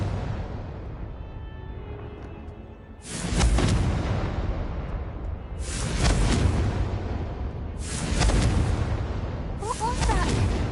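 Confringo blasting spell explosions from the Hogwarts Legacy video game, four heavy booming bursts at intervals of a few seconds, loud and close, each decaying into rumble.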